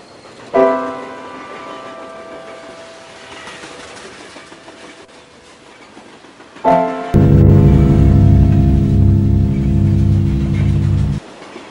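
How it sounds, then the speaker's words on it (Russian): A shunting diesel locomotive pushes a group of railcars in reverse along the track: a sharp clank opens, rumbling and metallic noise follow, then a loud, steady low engine drone or horn-like tone holds for several seconds before cutting off. "Маневровый тепловоз с группой вагонов движется управлением назад"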